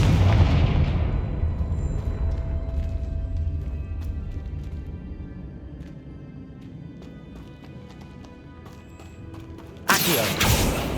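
A loud blast of the Confringo spell in Hogwarts Legacy, a sharp explosive crack decaying into a long rumbling tail, followed by quieter clattering game effects and a second sudden burst near the end.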